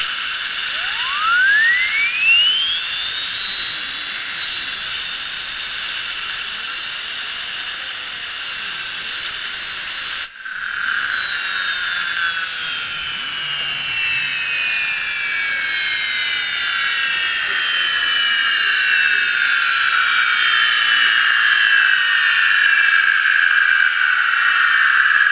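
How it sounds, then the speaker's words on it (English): A small high-density polyethylene turbine spun by compressed air, with a high whine rising sharply in pitch to a steady scream, a brief cut, then a long whirring tone gradually sliding lower as it spins down. "I can just blow a little air through it, and we can do a quick look at how it operates under compressed air."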